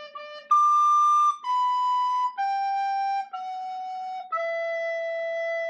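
A recorder plays the middle part of Happy Birthday alone, seven clear held notes in a descending sequence with short breaths between them, close and steady.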